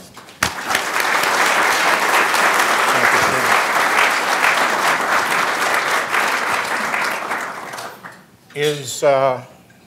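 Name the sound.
audience applause welcoming speaker Mac McKee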